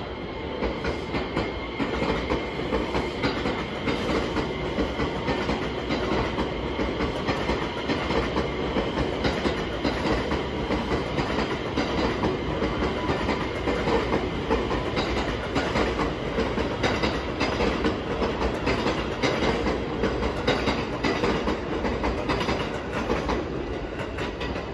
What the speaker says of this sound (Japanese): あれは確実225系やってきましたね。